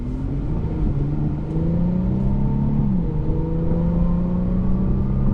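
A 2023 Infiniti Q50 accelerating smoothly from inside the cabin, its engine note rising steadily with a brief dip at a gear change, under a steady road rumble.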